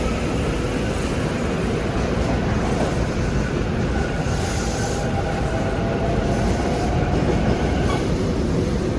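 SEPTA Regional Rail train 9744 rushes past at close range, a loud continuous roar of wheels and rail noise with faint clickety-clack and no talk.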